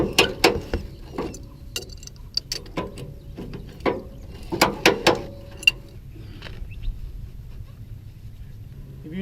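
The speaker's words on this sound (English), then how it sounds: "now we're going to go and ratchet it up" Ratchet strap being cranked tight on a car tow dolly behind an RV, a series of close, sharp clicks in uneven bursts, then fading to quiet outdoor background.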